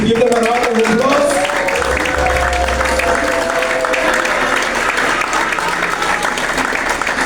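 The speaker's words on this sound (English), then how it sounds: "now we give them a round of applause" Audience applause fills a graduation ceremony, a dense, steady wash of many hands clapping that holds loud throughout, with a few voices and cheers mixed in near the start.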